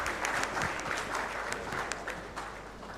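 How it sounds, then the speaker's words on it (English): An audience at a session gives a steady round of applause for the panel, a dense wash of clapping heard close and alone, tapering a little near the end. "once again a big round of applause for them"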